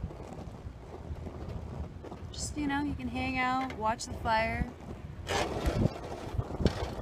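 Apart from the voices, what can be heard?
wind blowing outdoors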